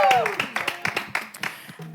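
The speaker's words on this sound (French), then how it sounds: "Mais applaudissez." Scattered clapping from a small group on a French-language broadcast, a few distinct uneven claps following a brief tone, with a voice speaking over them.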